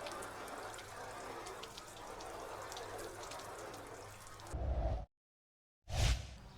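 Water runs and patters off a ceramic-coated car panel in a steady close wash, then a brief louder gush, a short silence and one more splash at the end.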